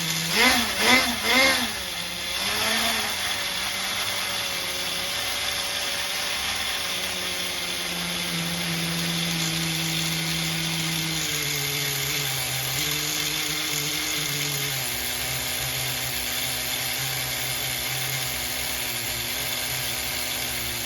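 An HPI MT2 RC monster truck's nitro engine revving and idling during tuning after an air leak repair, with loud buzzing bursts at first, then a steady high-pitched drone whose pitch shifts in steps.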